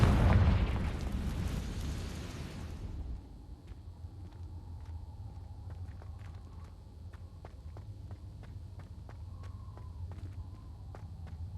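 A Confringo fire spell blasting in the Hogwarts Legacy video game, opening with a loud, heavy explosive burst that rumbles away over a few seconds, followed by quieter game ambience with scattered small clicks and taps.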